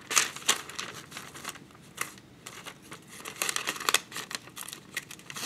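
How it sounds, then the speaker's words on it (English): A paper trimmer slices wax paper in a string of quiet, close crisp cuts and crinkles, irregular and brief, with no talking. "I'm going to use my trimmer."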